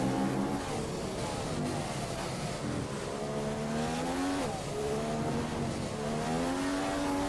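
An F1 race car in F1 2015 accelerates hard, its engine note climbing and shifting through gears in repeated rising sweeps, loud and close, with no voices over it.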